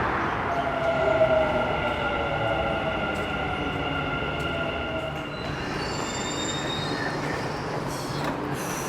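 A Dubai Metro train rumbles along its track from inside the car, with wheels squealing in long, tonal whines over a constant rolling roar, and a brief high screech close to the end.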